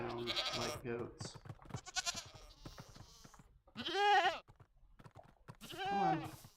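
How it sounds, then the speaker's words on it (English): Goats in Minecraft Bedrock Edition let out two loud, quavering bleats, one midway and one near the end, between stretches of someone talking. "They do sound like goats."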